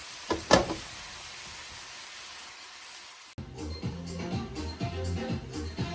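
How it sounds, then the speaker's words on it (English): Ground beef frying in a pan for taco pasta, a faint sizzle with a sharp clatter early on, then busier cooking noise with rhythmic background music taking over partway through. "I'm gonna cook this ground beef till it's done quite well."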